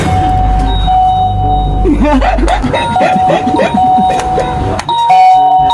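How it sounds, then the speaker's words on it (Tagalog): A doorbell chimes repeatedly over a busy, noisy background, the tones sounding again and again in quick succession. "Sinong nagpipindot ng doorbell?"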